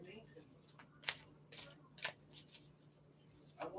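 A deck of oracle cards is shuffled by hand, giving a string of crisp riffling bursts at irregular intervals, close and fairly quiet.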